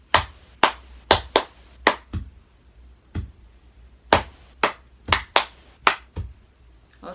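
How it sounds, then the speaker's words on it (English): Hands clapping a rhythm for sight-reading practice, sharp close claps in short uneven groups with brief pauses between phrases, played alone without talk. "You can also clap it."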